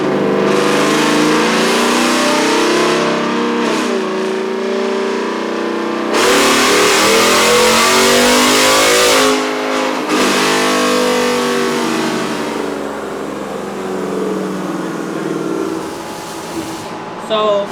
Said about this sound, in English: We did it in 4th to try to get more RPM out of it.